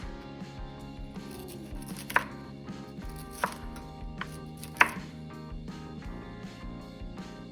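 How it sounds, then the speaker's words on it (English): A knife chopping broccoli on a cutting board, with a few sharp, distinct chops spaced irregularly over soft kitchen background noise; no talk. "I'm just gonna cut up some broccoli"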